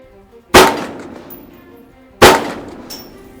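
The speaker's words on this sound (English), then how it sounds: "Line's hot. Clear to fire." Two sharp, loud rifle shots at an outdoor shooting range during unsupported hunting practice, spaced about a second and a half apart, each with a short decaying ring.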